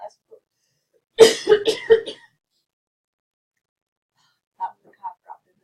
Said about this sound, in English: The cough dropped in there.